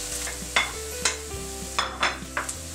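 Onion sautés in hot oil over high heat, a steady sizzle with several sharp scraping stirs against the pan, close and fairly loud, no voices.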